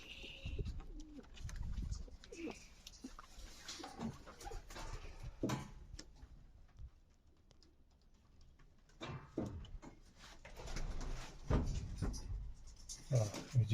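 Pigeons coo softly inside a loft where some birds sit on eggs, low murmuring calls repeating through the clip alongside faint rustling and scratching from the birds.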